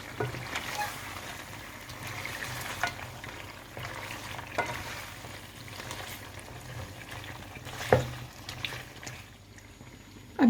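Mutton pieces and bell peppers (shimla mirch) frying in a karahi, a steady close sizzle with occasional stirring clatters and a sharper knock near the end, no talking.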